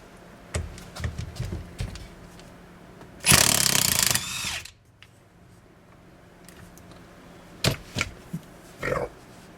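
A power tool bursts into a loud, short whir for about a second as it removes a bolt from a Caprice steering wheel. Scattered clicks and handling knocks come before and after it.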